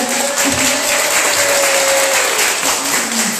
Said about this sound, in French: Faites du bruit, le public d'RC2, on applaudit la fin